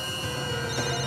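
A telephone rings from a private number with a steady electronic tone in a TV crime drama scene, heard briefly and alone.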